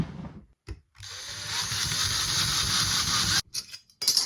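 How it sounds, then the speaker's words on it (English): A drill bores holes by hand into a lightsaber hilt, a bright sustained whine running for a few seconds between short stops and restarts, close and alone. "So let's go ahead and finish drilling"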